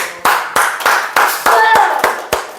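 Children and a church congregation clap together in a steady, even rhythm of about ten loud claps, with faint voices underneath.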